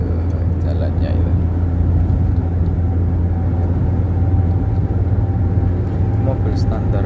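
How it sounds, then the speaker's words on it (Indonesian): Inside an Espass driving on a rough toll road, a steady low road rumble with faint rattles runs throughout while someone talks over it. "mobil standar pun juga pasti bunyi kalau ketemu jalan-jalan kayak gitu"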